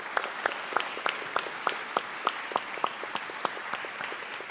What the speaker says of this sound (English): so I would like a round of applause for them